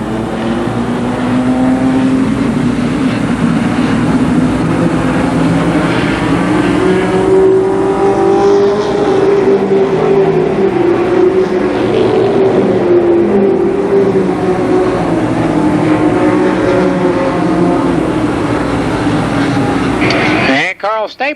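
ARCA Pro 4 race cars roar around Columbus Motor Speedway, engines droning loudly and continuously as they pass, with a track announcer calling the race over the noise.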